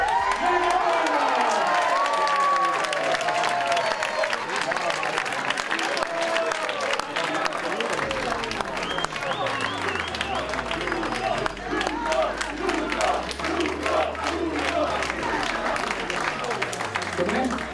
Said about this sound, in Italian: Allora, applauso, applauso, applauso, applauso.